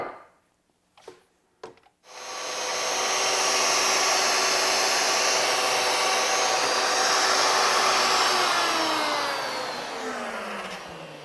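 A Pantorouter router trims a wood tenon slightly smaller: after a few short taps, a loud, steady broadband whir starts and holds for about nine seconds, then tapers off at the end.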